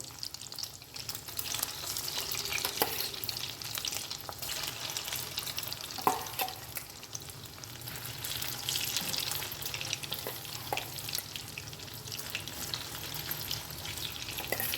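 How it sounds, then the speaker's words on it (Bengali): Soya chunks frying in a pan and being pulled apart with a utensil, giving a continuous crackling sizzle with occasional soft scrapes and knocks, steady and close throughout, no voices. "আমি কিন্তু সোয়াবিনগুলোকে একটু ছাড়া ছাড়া করে ভেজে নেবো"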